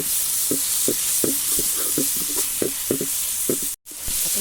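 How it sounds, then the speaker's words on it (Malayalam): Onions are stirred as they fry in a hot clay pot for a home-style chicken parts curry: a spoon knocks in a rhythm of regular taps, roughly three per second, over a loud continuous sizzle, with no talking. "അപ്പോൾ ചട്ടി നന്നായി ചൂടായി നമുക്ക് നന്നായി ഇളക്കി കൊടുക്കാം കേട്ടോ."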